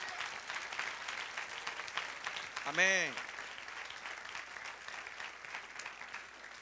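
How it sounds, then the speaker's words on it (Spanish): A church congregation applauds during a sermon, a faint, steady wash of clapping with a single voice crying out briefly in the middle, and a spoken word heard over the crowd. "Da el aplauso a Él."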